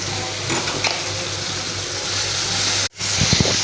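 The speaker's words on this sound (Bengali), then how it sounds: "চিংড়ি মাছটা মশলা দিয়ে ভালো করে কষানো হয়ে গেছে" Prawns sautéing with ground spices and green chili paste in a pan, a close, steady sizzle that cuts off sharply near the end, then returns with a few stirring clatters.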